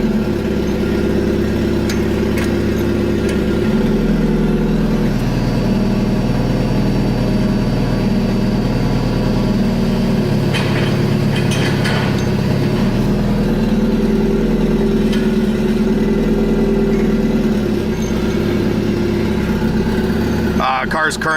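A turbocharged Mazda Miata engine, running on the stock ECU, idles steadily throughout, a low continuous rumble with a brief rise in revs near the start and faint clatter on top.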